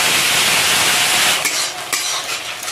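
Ginger, green chili and tomato frying in a pan in a hill village kitchen, giving a steady loud sizzle with stirring scrapes throughout and small clatters near the end.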